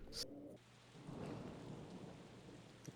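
A rain dance in the video game Castle Crashers brings a heavy, steady rainstorm with rumbling thunder. The noise is dense and continuous, with a sharp crack near the start and no voices.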